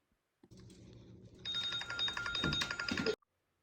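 A phone ringtone plays, a soft tone first, then a brighter electronic ringing pattern that repeats rhythmically for under two seconds before cutting off abruptly, with faint thumps underneath.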